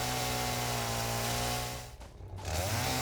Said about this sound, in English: So might as well chainsaw it up.